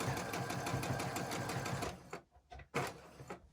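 A sewing machine back-stitches a fabric mask in a fast, even run of stitches for about two seconds. It then stops, leaving a few short bursts of needle clatter.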